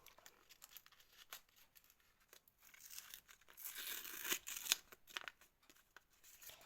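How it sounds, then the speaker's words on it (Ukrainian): Soft crinkling builds into a brief tearing rip of paper packaging, close by and quiet, then fades back to faint rustles. "У нас ось один пакетик. Давайте ми його відкриємо акуратно."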